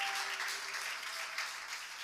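A church congregation at a Sunday worship service in Dungarpur claps together in praise, a faint, dense burst of applause heard from a distance that fades slightly toward the end.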